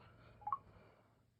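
Two short touch-tone beeps from a phone keypad as a passcode is entered, close and clear over a quiet low hum, with no talking.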